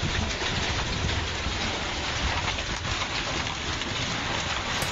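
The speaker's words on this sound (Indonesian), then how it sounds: "ya hujan es" Dense, steady pelting of hailstones during a storm in Tasikmalaya, Indonesia, a loud continuous roar on surfaces without pause or talk.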